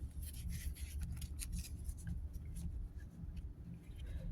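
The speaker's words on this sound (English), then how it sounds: "very gently shuffled" A deck of cards being shuffled very gently, giving soft, close riffling and rubbing bursts over a faint background hum, with quick flicks in the first half that thin out toward the end.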